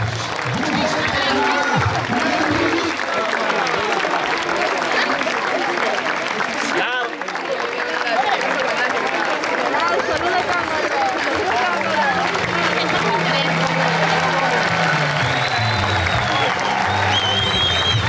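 Sustained applause from a crowd at a presentation of football club teams and a tribute to the club's veterans, dense and steady throughout, with a voice speaking over it at times.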